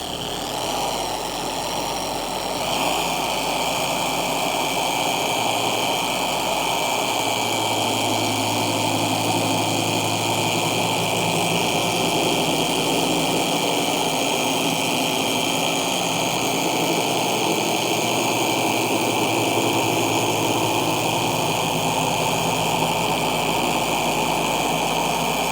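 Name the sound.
car polishing machine buffing scratches at low speed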